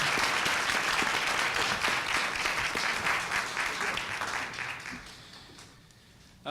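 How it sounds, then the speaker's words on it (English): A crowd at an NAACP-sponsored panel at Peekskill High School claps in full, steady applause that gradually tapers and dies away near the end. "Give him a round of applause as he comes forward"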